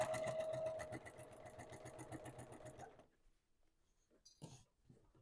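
A sewing machine top stitches a scrappy quilt-as-you-go charity quilt, running in fast, even, rhythmic pulses for about three seconds before stopping, followed by faint handling noises.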